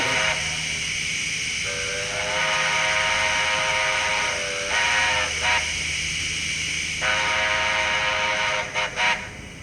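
A Casula Hobbies Z12 model train's whistle sounds at a level crossing in several sustained blasts, with short gaps and a couple of quick toots near the end, over a steady mechanical hum.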